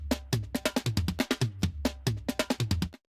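Original drum fill sample, a crisp, dry run of about a dozen rapid, evenly spaced drum hits with booming low kicks, played alone and stopping abruptly near three seconds.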